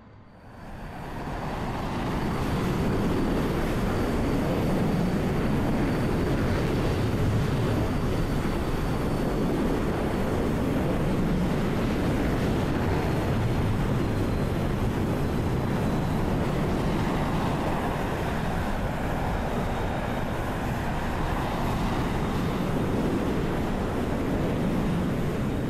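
An F-14B Tomcat jet on its landing approach in the DCS World flight game gives a steady, loud, broadband engine roar that swells in and holds for the whole stretch, with no talking.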